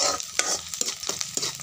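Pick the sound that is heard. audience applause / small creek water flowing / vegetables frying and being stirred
vegetables frying and being stirred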